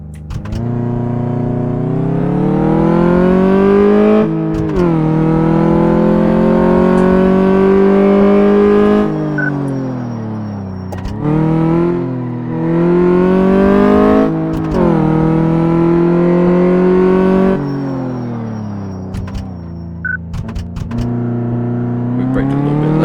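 Car engine in Car Mechanic Simulator 2014 during a test drive for a loose steering fault, revving loud and close, rising through repeated gear shifts with brief drops between, no voices.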